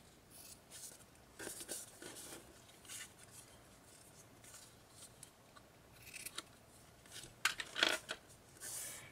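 Scissors trimming the ribbon edges on a handmade tea cup card make a few quiet, close snips, with sharper louder cuts toward the end, alone in a quiet room.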